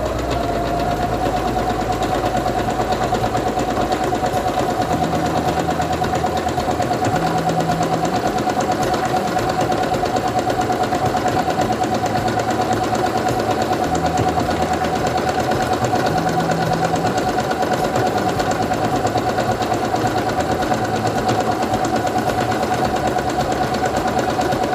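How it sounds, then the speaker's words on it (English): A SINGER Quantum Stylist 9960 sewing machine stitches fabric with a steady, even motor whir and hum that runs unbroken for the whole stretch, with no voices. "I'm going to take my fabric and put it under the presser foot, lower it, and begin sewing."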